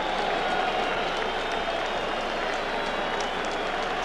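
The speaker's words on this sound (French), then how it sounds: "Certains sifflent, d'autres applaudissent." Stadium crowd at a 1964 France versus Hungary football match whistling and applauding, a dense, continuous roar of distant clapping and whistles filling the whole stretch without letup.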